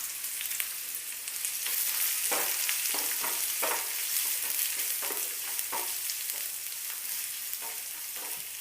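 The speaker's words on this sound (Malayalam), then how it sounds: "ഇത് ഇനി ഗോൾഡൻ ബ്രൗൺ കളറാവുന്നത് വരെ നമുക്ക് വഴറ്റിയെടുക്കാം." Sliced big onions saute in a pan toward golden brown, giving a steady close sizzle broken by repeated scraping stir strokes, with no talk.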